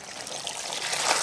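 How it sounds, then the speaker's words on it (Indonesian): Water poured onto growing media in a planting polybag, a steady soft trickling and splashing that builds slightly, close and alone. "setelah kita isi polybag ini dengan media, kita siram dulu sahabat ya"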